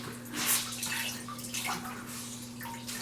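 A shower head sprays water onto a cloth diaper, a hissing, splashing stream with bursts and gurgles that shift over a few seconds against a steady electrical hum.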